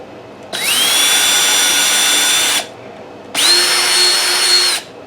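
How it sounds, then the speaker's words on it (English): Two loud bursts of an electric drill boring into wood, each whining up to full speed for about two seconds, separated by a brief pause. "And I'm going to drill a hole in it."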